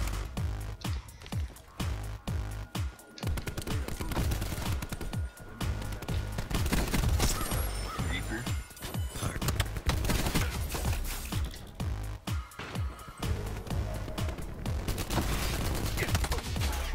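Dense video game gunfire in Call of Duty Black Ops 4, sustained bursts of automatic shots and crackling fusillades from several directions, loud and continuous with brief lulls throughout.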